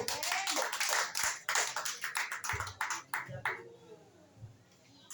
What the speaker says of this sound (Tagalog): Isang mataas sa palakpak para kay Lord.